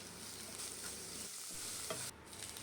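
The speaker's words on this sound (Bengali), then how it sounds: "এটা মিলিয়ে ভালো করে ভাজবো।" Spices and turmeric powder fry in oil in a pan for a Bengali prawn malai curry, giving a soft, continuous sizzle with scraping stirs and a brief clatter, faint and close.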